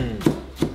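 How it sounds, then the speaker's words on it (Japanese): Two crisp knife strokes slicing a green onion diagonally into thin slices against a cutting board, evenly spaced, close and fairly loud with no talking. "斜めにスライスしていきます"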